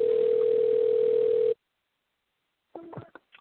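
A steady telephone ringing tone holds for about a second and a half, then cuts to silence. A few brief, faint voice-like sounds follow near the end.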